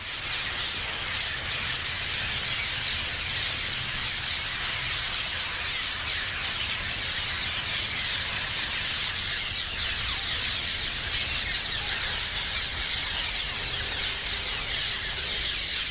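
A large colony of nesting swallows swarms and calls nonstop, a dense, continuous wash of high squeaky chirps and twittering that fills the space, close and loud with no voices.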